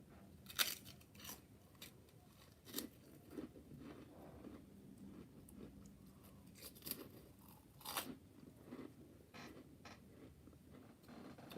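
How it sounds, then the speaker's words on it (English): Crackers are eaten close up, giving repeated crisp crunches and chewing bursts at irregular intervals over a quiet background. "All you can hear is me eating crackers."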